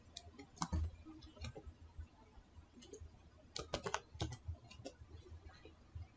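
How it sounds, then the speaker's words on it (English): Quick irregular keystrokes on a computer keyboard as a new account name is entered in Windows 11, close and fairly quiet, clustered in short bursts with pauses. "Now type new account name like Tech Pro Advice."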